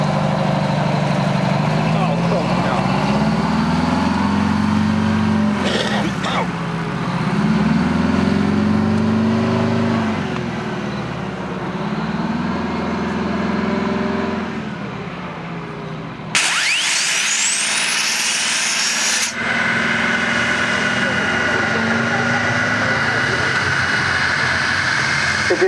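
A Cold War jet aircraft runs its engine at a Bruntingthorpe air show, a loud, droning roar with slowly wavering tones, broken midway by a sudden harsh rushing burst lasting a few seconds before the roar resumes.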